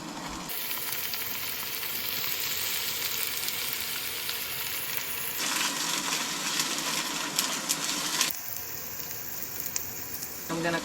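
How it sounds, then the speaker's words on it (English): Mushrooms and garlic sauté in a pan inside a van in the woods, a steady, loud sizzling hiss that continues throughout with occasional stirring clatter. "I'm just gonna saute some mushrooms and garlic"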